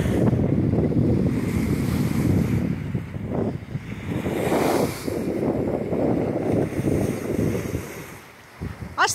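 Strong wind buffets the microphone in a steady loud roar, with gusts swelling and easing over the rough water of Chesapeake Bay.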